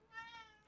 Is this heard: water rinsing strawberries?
no